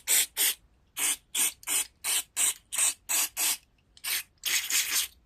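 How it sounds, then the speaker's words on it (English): Short hissing bursts of carburetor cleaner sprayed through a John Deere Z445 riding mower carburetor, about a dozen in quick succession with brief gaps, the last few running together into a longer blast; close and fairly loud, no talking. "there it goes. It's spraying through"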